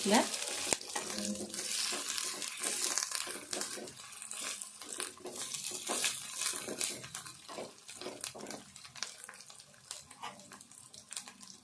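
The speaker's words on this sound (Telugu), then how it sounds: "పచ్చిమిర్చి, ఈ ఉల్లిపాయ మంచిగా వేగాలి." Green chilies and onion frying in a pan for bitter gourd fry, a constant sizzle and crackle with spatula scrapes now and then and a faint watery hiss, close by and without speech.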